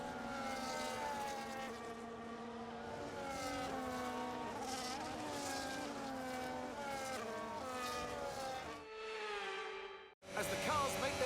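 Formula One cars in an F1 video game idle through a formation lap. Several engines give a continuous buzzing drone whose pitch shifts up and down, with a brief cut near the end.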